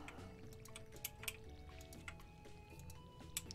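Crops are watered with a watering can in Stardew Valley, giving soft, faint game splashes and drips that repeat every second or so over a quiet background hum of game music.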